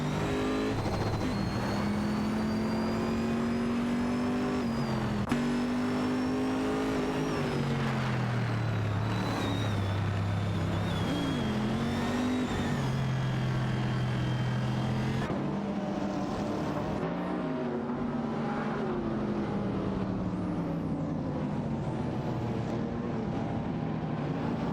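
Race cars, among them an Ultima GTR 720, howl through a racing video game, their engines revving and shifting continuously with rising and falling pitch as several cars jostle close together.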